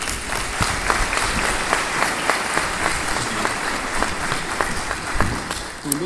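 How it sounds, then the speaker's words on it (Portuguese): An audience at a keynote talk during a technology conference applauds in a sustained, even wash of many hands clapping, steady throughout with no voices rising above it. "Vamos aplaudir Rodrigo Abreu."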